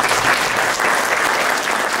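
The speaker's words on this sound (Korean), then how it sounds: "박수 한번 해주세요." Steady, dense applause from a large audience at a security policy forum fills the room for the whole stretch, loud and close with no voices.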